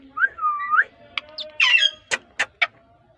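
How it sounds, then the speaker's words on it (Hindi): A green parrot whistles on command, giving a sliding tonal whistle followed by a few short chirps and sharp clicks, close and clear against a quiet background. "मिठू मिठू म्याऊ सीटी मारो म्याऊ"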